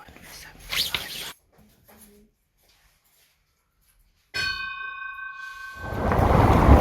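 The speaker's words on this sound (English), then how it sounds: "the bell stopped ringing" A single bell in Ypres, Belgium, strikes once with a bright ring that hangs for about a second, framed by rustling and handling noise and a quiet pause.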